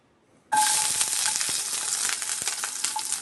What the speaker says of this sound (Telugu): కాస్త నెయ్యి వేసి దీంట్లో ఫస్ట్ చాప్ చేసుకున్న గార్లిక్ వేస్తానండి